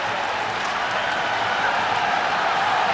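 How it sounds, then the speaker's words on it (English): Dhaka supporters at a cricket match roar in a broad, continuous wash of crowd noise, steady and slightly swelling, with no commentary over it. "And just listen to that crowd,"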